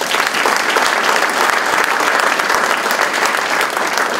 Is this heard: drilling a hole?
no